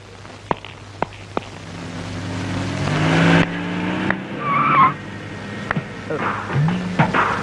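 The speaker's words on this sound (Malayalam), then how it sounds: "ഈ മാരുതി വേനൊന്ന് ഓടിച്ചു നോക്കി" A Maruti van is driven on a road, its engine humming steadily while tyres squeal and skid in long whines, punctuated by a few sharp knocks and a brief surge of engine roar.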